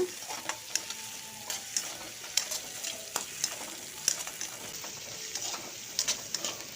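A soft, steady sizzle of mustard seeds, garlic, onion and chilli frying in a pan for tempering, with scattered light clicks of stirring, fairly quiet and with no voices.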